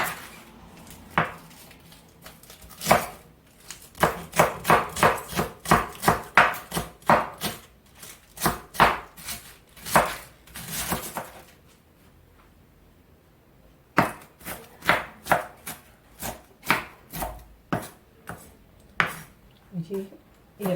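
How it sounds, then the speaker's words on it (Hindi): A knife chops green cabbage for KFC-style coleslaw, striking a board in fast, crisp rhythmic bursts, pausing briefly midway before resuming. "ये जी ग्रीन कैबेज हमारी चॉप हो चुकी है"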